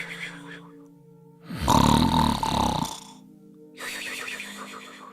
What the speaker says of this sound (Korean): 그러더니 이내 다시 코를 골기 시작했다.